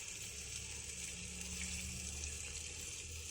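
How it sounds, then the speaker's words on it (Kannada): Tamarind juice is poured into a pot of hotel-style sambar, giving a faint, continuous trickling pour from start to finish with no voices. "ಇದಕ್ಕೆ ಸ್ವಲ್ಪ ಹುಣಸೆ ಹಣ್ಣಿನ ರಸ ಹಾಕ್ಕೊಳ್ಳೋಣ."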